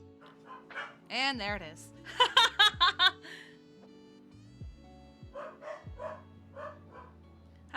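Dogs bark at the arrival of a food delivery, several loud yelps and howling barks in bursts, with a person speaking briefly over them.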